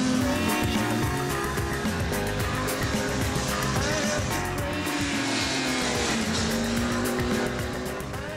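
A rally car races along a special stage, its engine roaring loud and close with a steady, shifting tone, tire noise mixed in, and a gradual fade at the very end.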